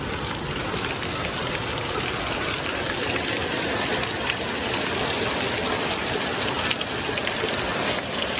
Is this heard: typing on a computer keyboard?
no